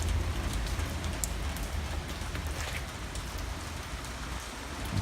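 Rain falls steadily through the night onto a Ridgid rolling tool box, a soft continuous hiss dotted with small individual drop taps, fairly quiet and unbroken by any voices.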